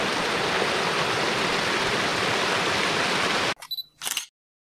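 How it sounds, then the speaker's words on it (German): A jungle waterfall on Madeira pours in a steady, dense roar for several seconds, then cuts off, followed by a couple of short camera clicks. "Und da geht einfach ein Wasserfall runter."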